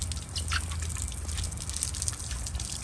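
Water pushed by house-hose pressure out of the cooling system of a Honda BF75D/BF90D outboard motor, a steady dripping, splashing flow that runs the whole time at moderate level, close by and without talk.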